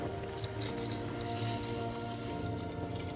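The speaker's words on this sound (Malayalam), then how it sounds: "നമ്മൾ എടുത്തു വെച്ചിരിക്കുന്ന വെള്ളം ഇതിലേക്ക് ചേർക്കുക." Water is poured into a pot of chicken madhooth curry as a soft, steady, continuous trickle and slosh, faint and close, with no voices.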